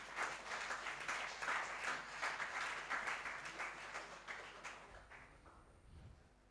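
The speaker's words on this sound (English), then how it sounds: "Let's welcome him with a thunderous applause as our next chairperson" An audience applauds to welcome a new chairperson at a panel discussion event, a dense, sustained round of clapping that gradually fades, fairly distant and soft.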